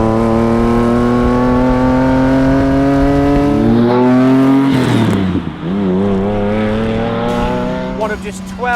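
A 1990s Lamborghini Diablo SV supercar is driven hard, its engine droning loud and close as the revs climb, drop sharply at a gear change, then build again.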